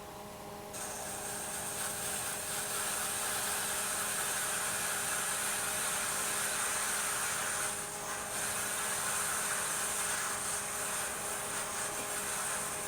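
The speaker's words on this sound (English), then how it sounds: "I bring it in on an angle until it starts to cut. And at that point, it will make a very light cut." Round nib scraper taking a light shear cut on wood turning on a lathe, a continuous loud whirring hiss with a brief lull partway through.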